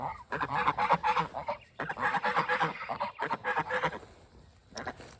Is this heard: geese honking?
yes